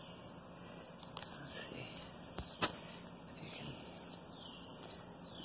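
A cicada in Southern Illinois buzzes with a steady, high, shimmering drone throughout, moderately close in an outdoor setting, with a couple of faint clicks and knocks nearby.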